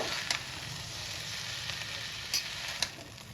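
Fried rice with soy sauce sizzles in a pan with a soft, continuous hiss, marked by a few brief scrapes and clicks from stirring.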